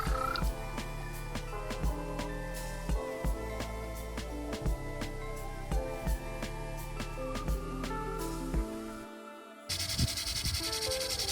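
American toads call from a woodland pond, with several males overlapping in long, steady trilling calls punctuated by regular clicks and pulses, sounding close and clear, and a brief break in the chorus near the end.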